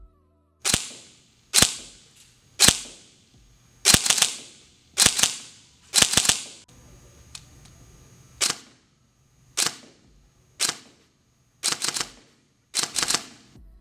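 A Systema PTW airsoft gun fires a series of sharp, loud clicking pops, about fifteen shots in all, as single shots and quick doubles spaced roughly a second apart with brief quiet gaps between them.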